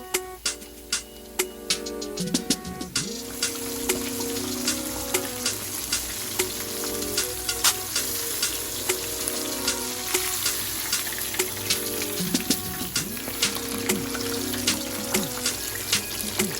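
Cornmeal-coated porgy fish deep-frying in hot oil, a loud dense crackling sizzle that continues throughout, with clinks and bubbling bursts scattered over the top.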